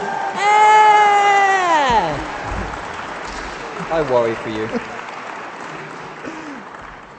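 An audience applauds the panelists at a 2013 artists panel, a steady wash of clapping that runs the whole time beneath a person speaking up close.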